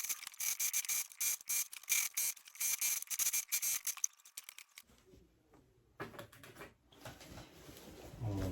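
A sewing machine stitches along a trouser seam, giving a rapid, even run of close mechanical clicks and taps for about four seconds, then stops, leaving quieter handling noises.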